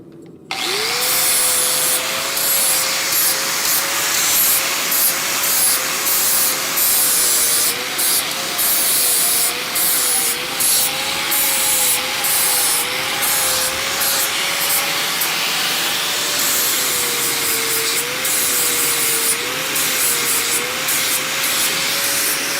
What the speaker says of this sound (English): So I'm just going to get a flat disc on my angle grinder just to clean that up.